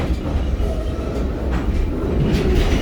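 Stone Mountain tourist train rolling along its rails, a loud continuous rumble with faint rhythmic clatter of wheels over track joints and occasional metallic squeaks.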